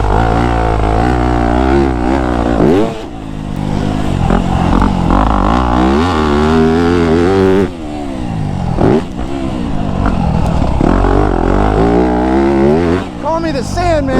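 A 2025 Yamaha YZ250F dirt bike screams at high RPM on a sandy woodland track, its engine loud and close, rising and falling through repeated throttle surges with brief dips between.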